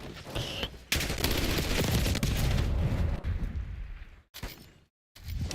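Rapid bursts of automatic gunfire crackle and boom in Black Ops 6, dense sustained volleys with a few short pauses and a brief silent gap near the end.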